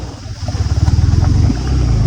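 A motorcycle rides over a rough road, its engine thrumming loudly and pulsing steadily with rattly, bumpy undertones throughout.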